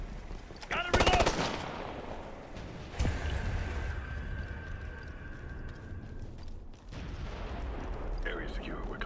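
Heavy gunfire in the Ghost Recon video game: loud machine-gun bursts crackle near the start and again around the middle, over a sustained roar of battle noise that continues throughout.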